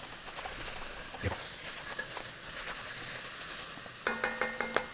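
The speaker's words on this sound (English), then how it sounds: "I want to cook this out for a minute before adding any liquid. Scrape the bottom." Hungarian beef goulash stirred in a pot, the bottom scraped as it fries before any liquid goes in: a faint, steady sizzle with soft stirring scrapes and a few quick knocks near the end.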